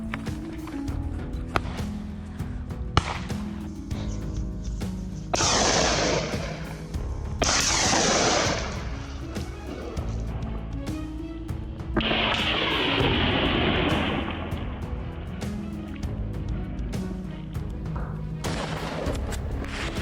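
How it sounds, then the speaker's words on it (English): Rifle shots crack out during a wild boar hunt on Moroccan farmland, several sharp reports with long echoing tails spaced a few seconds apart against outdoor background noise. "Rifle shots rang out steadily"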